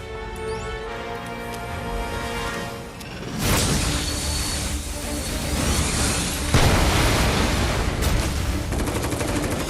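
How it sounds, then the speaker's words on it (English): A reactor explodes in Final Fantasy VII Remake Intergrade on PS5: tonal game music gives way to a loud, sustained roar of blasts and crackling booms that swells again near the end. "It almost looks like they're blowing up their own reactor, which we just blew up."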